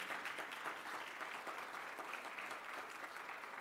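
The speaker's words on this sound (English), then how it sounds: "And I think that deserves a round of applause." A crowd claps steadily in sustained applause, dense and even throughout, with no voices rising above it.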